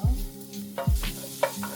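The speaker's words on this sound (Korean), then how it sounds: "약간 불을 줄여서 다진 마늘 한 스푼 넣고 쌀쌀쌀 볶아줘요" Minced garlic stir-frying in sesame and cooking oil over medium-low heat, close and fairly quiet sizzling with a few soft spatula scrapes and taps over under two seconds.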